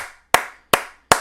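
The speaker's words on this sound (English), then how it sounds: "I'm gonna give you a clap right there." Three sharp, loud hand claps spaced evenly about a third of a second apart, close to the mic, each with a quick decay into silence.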